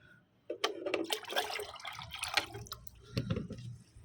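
Liquid nitrogen fertilizer pours into a container of water, a close, splashing gush with bubbling and trickling that swells and eases over a few seconds, with no talking over it.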